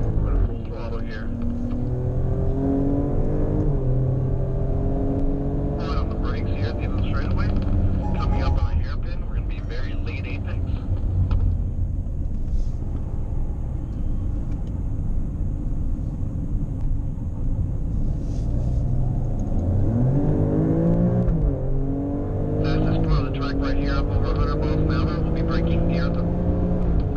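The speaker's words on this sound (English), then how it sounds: "We're going to full throttle here." An Alfa Romeo or Maserati sports car pulls hard at full throttle around a race track, engine droning loud and steady with rising gear pulls and shifts, while a driver talks over the cabin noise.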